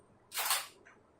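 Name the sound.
camera shutter taking a shot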